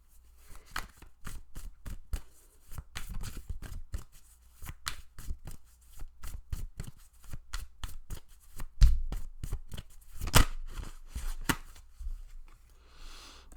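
Tarot cards shuffled by hand at close range, a quick run of crisp, rhythmic flicking and riffling snaps with brief pauses and a few louder slaps, no talking.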